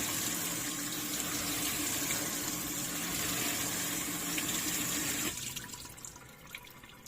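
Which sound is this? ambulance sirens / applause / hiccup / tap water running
tap water running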